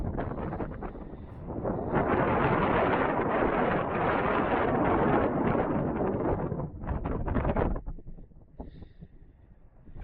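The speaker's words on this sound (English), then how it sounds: "If you can still hear me, it's windy." Strong wind buffets the microphone on an open outdoor hilltop, a loud roaring rush that swells after a couple of seconds, holds, then breaks into gusty bursts before easing.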